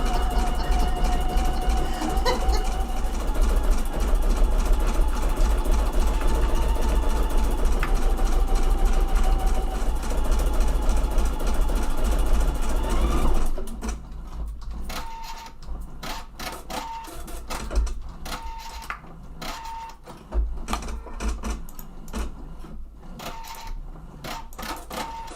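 An embroidery machine stitches on sponge terry fabric, a dense steady mechanical whirr and rapid needle chatter for about half the time, then stopping and starting in shorter bursts with intermittent beeps.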